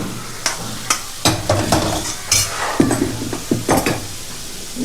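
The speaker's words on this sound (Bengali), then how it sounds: "আলুটা একটু ভাজা হয়ে গেছে ভালো" Potatoes fry in oil in a pan with a steady sizzle, broken by several sharp scrapes and knocks as they are stirred, close and fairly loud.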